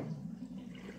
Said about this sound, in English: So I'm going to squeeze out this water.